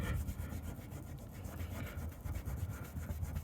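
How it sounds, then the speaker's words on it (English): A microfiber cloth buffs residue off the door panel of a Silverado, making quiet, steady rubbing strokes in a quick back-and-forth rhythm, close up and alone. "If you just buff it a little bit,"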